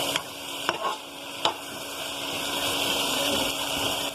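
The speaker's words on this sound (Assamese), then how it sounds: "এতিয়া অলপ মছলাখিনি দিলোঁ, মছলা দি অলপ লৰাই দিছোঁ" Spice masala stirred into pork in a pan: a continuous close sizzle with a few sharp scrapes of the spoon early on, the frying growing slightly louder toward the end.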